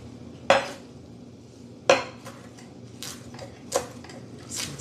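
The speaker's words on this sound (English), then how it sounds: "Say it's just chopping." Knife chopping vegetables on a chopping board at a kitchen counter, a few sharp, distinct knocks spaced about a second apart with softer taps between, close and clear over a quiet background.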